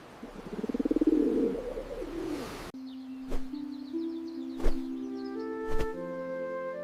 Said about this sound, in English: Days later, the dove returned with a fresh olive leaf.